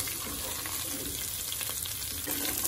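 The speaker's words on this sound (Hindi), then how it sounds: "सबसे पहले अदरक लहसुन और प्याज को अच्छी तरह से भून लें।" Ginger, garlic and onion frying in a pan, a steady close sizzle with occasional stirring scrapes, continuous and fairly loud throughout with no talk.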